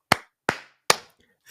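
A small group claps in unison three times, evenly spaced sharp claps close by, followed by a faint start of another sound, no talk.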